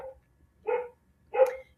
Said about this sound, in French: c'est mon petit chien qui jappe